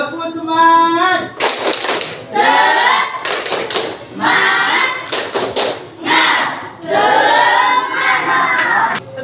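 A group chants in rhythmic unison while clapping in sharp bursts, alternating loud claps and voiced phrases up close.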